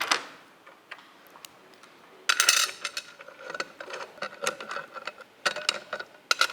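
Six 8mm metric bolts with 1.25 pitch being threaded into holes on a Movmax grip dolly plate, heard as close, irregular metallic ticking and ratcheting clicks in bursts, with no talking.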